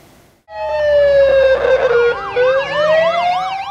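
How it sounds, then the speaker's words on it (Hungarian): Police cars, ambulances and fire trucks wail past with sirens during an emergency-services parade day in Orosháza, Hungary: a loud, close rising-and-falling tone with fast yelping sweeps layered on top, no talking. "Szirénázva vonultak rendőr rendőrmentő tűzoltóautók múlt pénteken Orosházán"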